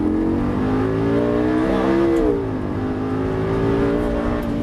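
Lamborghini LP 560-2 rear-wheel-drive at full throttle on the Dreux circuit, its engine a loud, sustained roar rising in pitch as it accelerates, dipping briefly, then droning on steadily.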